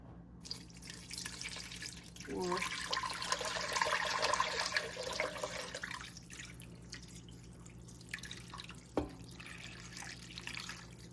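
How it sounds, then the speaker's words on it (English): Water streams into a slow cooker over leftover chicken drumstick bones for stock, a rushing, splashing pour that swells for a few seconds, then gives way to quiet drips and a single knock. "Water to cover."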